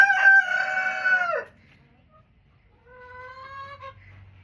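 A backyard rooster named Rufus crows twice among hens, a loud drawn-out call, a pause of silence, then a second fainter crow with a low hum underneath.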